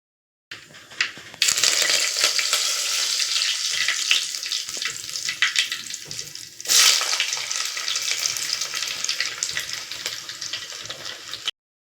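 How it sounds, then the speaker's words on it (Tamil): Mustard seeds popping and spluttering in hot oil for a spicy dried-fish curry, a loud dense crackle up close that starts suddenly, eases, then flares again, carrying on unbroken for several seconds without talk. "இப்போ கடுகு நல்லா போடுது."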